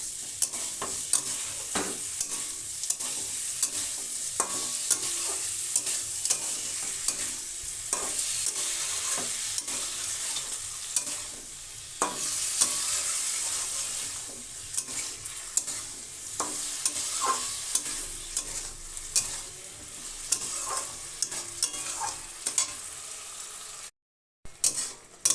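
Sugar is stirred into a tangy-spicy-sweet Bengali pickle cooking in a pan, giving continuous sizzling and bubbling with repeated scraping strokes of a spoon, close and fairly loud, and no talking.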